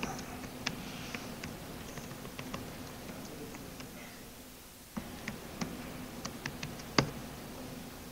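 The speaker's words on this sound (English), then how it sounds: "Keyboard." Computer keyboard typing in a quiet room during a browser demonstration, with sparse, irregular clicks and a few sharper taps, faint over a low background hum.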